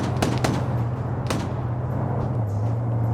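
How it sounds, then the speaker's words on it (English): Dragon anti-tank weapon firing in a multiplayer Cold War combat video game, with a few sharp distant bangs and cracks early on over a continuous low engine rumble from vehicles. "We have an AT round fired. It goes short, though."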